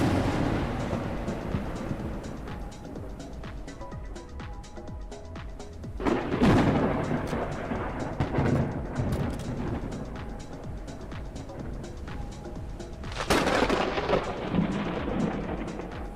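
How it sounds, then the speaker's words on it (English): Distant thunder in the video game Forever Skies, with two deep rolling booms swelling out of a steady rainy background hiss, the second one arriving several seconds after the first. "I'm assuming we're hearing the thunder from way far away."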